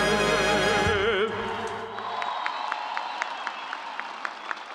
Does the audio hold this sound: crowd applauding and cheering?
yes